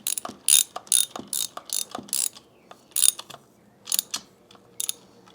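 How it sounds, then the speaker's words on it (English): A ratchet socket wrench tightens header bolts on a Honda CBR/VFR 800 motorcycle build, making a series of close, crisp clicking bursts separated by short pauses. "Just use the socket where you can."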